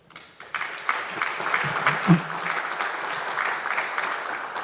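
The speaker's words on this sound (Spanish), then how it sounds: "lo recibimos con generoso aplauso" Audience applause welcoming an engineer at a technical talk on seismic risk in Peru, a moderate crowd clapping that swells and stays steady with a few louder claps mixed in.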